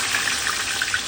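Potatoes sizzle in smoking-hot oil while french fries cook in a home kitchen, a steady bright hiss with small crackling pops throughout, close and even, with no talking.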